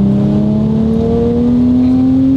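An Audi RS4 engine revs hard while accelerating up to 130, a loud, close, steadily rising drone climbing in pitch without a break, with no voices over it.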